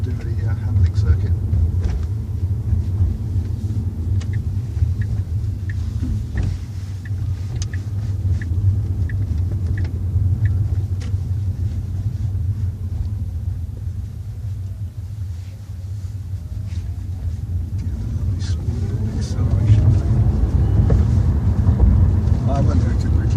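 A large Tesla car drives a tight, twisty handling circuit, giving a steady low road rumble with wind noise throughout, swelling louder near the end.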